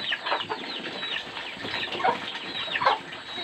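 Several chickens cluck and squawk nearby over a steady outdoor background, with scattered sharper calls rising above the flock.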